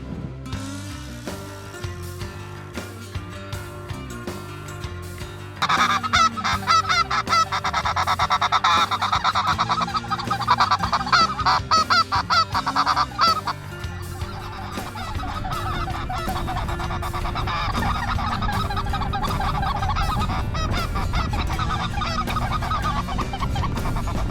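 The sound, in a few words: geese honking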